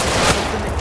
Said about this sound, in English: the gunfire sounds are realistic